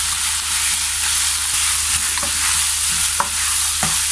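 Meat, diced bamboo shoots, rape blossoms and diced shiitake stir-fried in a pan, giving a loud, steady sizzle broken by a few sharp scrapes and clinks of a utensil against the pan, with no talking.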